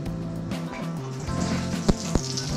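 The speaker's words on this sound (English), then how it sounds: "They are bubbling." Bacon-wrapped sausages coated in brown sugar bubble and sizzle steadily as they cook, with a soft, even crackle, a low background hum and a couple of sharp pops near the end.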